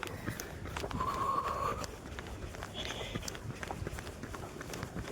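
Footsteps of a slow trail run along a village path in North Bengal, with soft, regular strides and quiet breathing against faint outdoor background.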